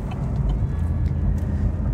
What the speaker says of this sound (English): you can sit outside the car and start it remotely and enjoy that V8 burble